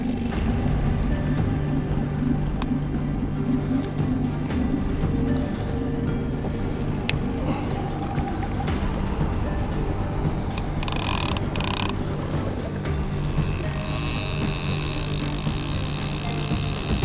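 Outboard motor of a small fishing boat on a catfish trip, a steady low drone running throughout, with brief higher whines and scraping noises near the middle and end.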